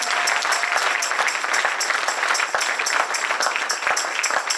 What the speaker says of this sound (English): Let's give up the Lord a clap of hands.